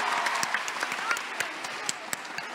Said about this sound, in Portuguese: Aplausos para ele.